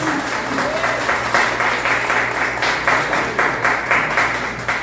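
Congregation at a Christian worship service applauding, a steady wash of many hands clapping, moderately loud and sustained throughout with a low hum underneath.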